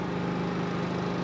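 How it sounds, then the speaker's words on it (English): A small portable generator runs steadily in the background after a tropical storm, a continuous low engine drone with no voices. "if you can hear in the background, got my little generator going."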